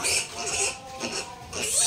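Piglets grunting and squealing in a pen on a farm during vaccination of eleven piglets and a sow, a close, continuous, rough chorus of overlapping grunts that swells and dips.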